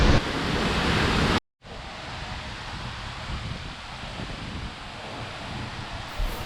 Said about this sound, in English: Getting behind the waterfall.